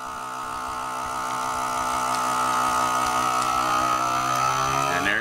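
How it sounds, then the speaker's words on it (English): A FoodSaver FM 2100 vacuum sealer sealing a bag, its pump motor humming steadily and loudly, building slightly in strength, then cutting off abruptly. "And there she goes, guys. And you'll be able to tell from the noise it's making if it's sealing properly."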